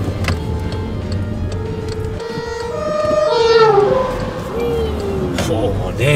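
A car driving through city streets in Witten, its engine note rising and shifting through gear changes, loudest near the middle, with people talking inside the cabin over the road noise.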